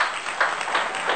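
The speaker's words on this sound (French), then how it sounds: "Applaudissez pour nous." A short burst of audience applause rises at a celebratory welcome ceremony, a dense, even patter of many hands clapping at once.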